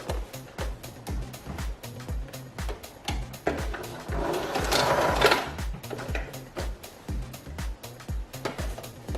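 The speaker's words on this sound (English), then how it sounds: "I'm just going to sew it down right along the edge." Domestic sewing machine running a zigzag stitch along the edge of knit fabric with elastic, a rapid regular clatter of needle strokes close by, steady throughout with a brief swell of motor noise midway.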